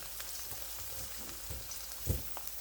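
Chopped carrots sizzling in a pan for veg chowmein, a faint, steady crackling fry with a few soft stirring knocks, no talking.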